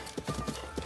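Horse hooves in the video game The Legend of Zelda: Breath of the Wild clip-clop in a quick, even gallop rhythm at moderate volume.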